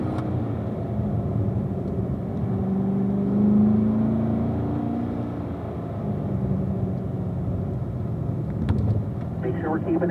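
A Corvette at a driving school lapping a race track, a steady close engine drone and road rumble swelling slightly midway, with a voice talking over it throughout.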